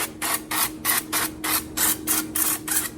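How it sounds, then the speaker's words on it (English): Eight quick, evenly spaced hisses of an aerosol cooking spray misting the top of pork chops, each a short burst with brief pauses between, close and fairly soft. "So you just want to spray the top lightly."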